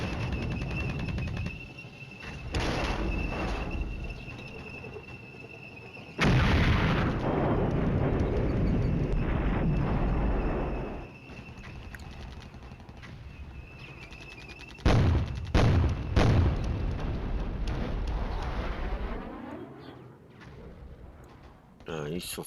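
Distant booming artillery and explosions rumble through a Flashpoint Campaigns: Red Storm battle, in sustained waves with several sharper blasts midway, while people talk over them.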